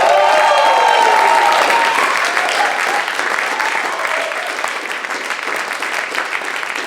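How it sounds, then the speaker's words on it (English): A theater audience at an improv festival applauds the lighting and set designer, loud dense clapping that starts full and slowly thins out, with a faint tone and some voices mixed in near the start. "Please give a gigantic round of applause for Tanine Dunais"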